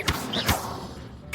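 Accio summoning spell cast in the Hogwarts Legacy video game: a few quick whooshing thumps, the first two close together near the start, with a swishing magical shimmer between them and another hit at the end.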